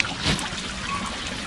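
Water trickling and splashing steadily from a fountain spout, close by and continuous, with no talking.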